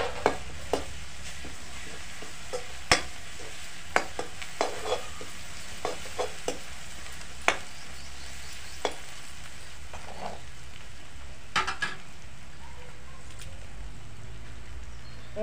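Pounded ginger and garlic fry in a pan of broad bean curry with turmeric, a soft continuous sizzle punctuated by sharp spoon clicks and taps as it is stirred.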